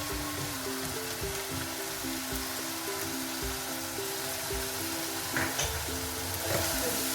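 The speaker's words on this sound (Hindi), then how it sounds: "ये आप देख सकते हैं कीमा अच्छे से भून चुका है। और इस पॉइंट पर हम इसमें अपने स्पाइसेस डालेंगे, सारे स्पाइसेस।" Chicken mince (qeema) fries with spices in a pan, making a constant close sizzle with a soft, steady hiss and faint stirring under it, with no voices.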